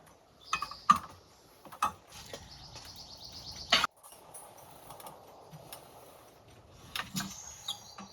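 Homemade tire machine turned with a red bar to dismount a tire, producing sparse metallic clicks, clanks and squeaks in irregular bursts with quiet gaps between them, close and fairly soft.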